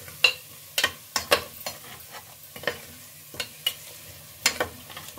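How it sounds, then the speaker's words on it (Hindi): Yogurt stirred into masala frying in a pan on a gas stove, with a spoon scraping and tapping the pan in irregular strokes over a soft sizzle, close and fairly quiet, no talking. "थोड़ा डालूंगी दही, और जब दही डालूंगी तो गैस का फ्लेम जो है वो कम कर दूंगी।"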